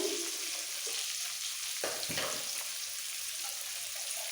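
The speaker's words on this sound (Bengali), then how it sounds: "আলুগুলো তেলের মধ্যে একটু ভেজে" Potatoes fry in hot oil with a steady, close sizzle, interrupted around the middle by a couple of brief scraping stirs before the hiss settles back.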